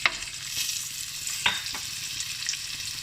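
Chilies, garlic, ginger, cinnamon stick, cardamom powder and cloves sizzle and fry in a pan, a steady close hiss broken by a few sharp stirring clinks and scrapes.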